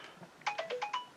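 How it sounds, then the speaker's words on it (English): Mobile phone message notification, a quick run of five bright electronic chimes in a rapid stepped pattern, fairly faint in the background of a quiet room. "Sorry if you can hear my phone going mental in the background."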